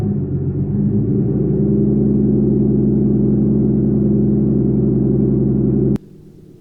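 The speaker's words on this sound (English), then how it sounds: "let's go ahead and start up the car and see how it sounds." A turbocharged BMW E36 engine runs at a steady, loud idle with a deep, even rumble just after starting, then cuts off abruptly near the end, leaving quiet background.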